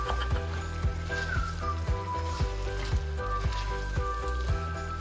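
Beef tongue being stirred in a sizzling creamy mushroom sauce: a constant soft hiss of frying under steady background music, with no break across the whole stretch.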